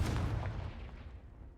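A Confringo blasting spell explodes in Hogwarts Legacy, a deep, booming blast that hits hard at the start and rolls off into a fading rumble over about a second and a half.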